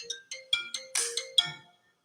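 A bright marimba-like iPhone ringtone plays a quick melodic phrase of about eight plucked notes, clear and alone, fading out at the end.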